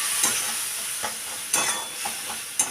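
Spice paste for a Bombay duck (lote fish) curry keeps sizzling in a pan after a splash of water, with a steady close hiss and sharp spoon scrapes at irregular intervals, and no voices.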